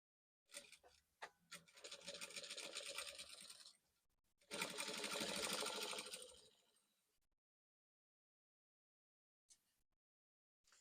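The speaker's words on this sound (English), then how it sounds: "You're going to see the way I'm going to do it on the sewing machine." A sewing machine runs in two bursts of a few seconds each, a steady whirring stitch with brief pauses, then near silence with a small click.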